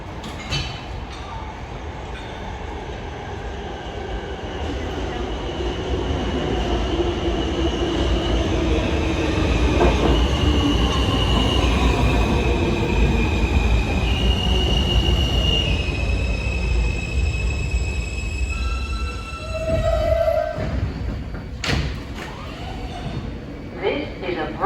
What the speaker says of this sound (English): This is a Brooklyn-bound R local train.